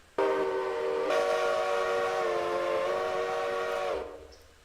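A locomotive whistle in the railroad simulation game Railroader sounds one long steady blast after a short lead-in, holding its tone for nearly four seconds before trailing off, loud and alone without talk.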